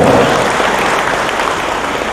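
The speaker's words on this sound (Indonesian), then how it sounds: "Mari kita beri semangat, tepuk tangan dulu yang paling untuk kita semua" Audience applause at a book review and anniversary gathering in a large mosque, a brief loud burst of clapping that fades a little toward the end.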